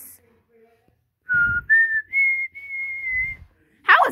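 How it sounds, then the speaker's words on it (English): A person whistles a short series of clear, steady tones that step upward in pitch, loud and close, with a brief voice at the end. "How is whistling gonna get us there?"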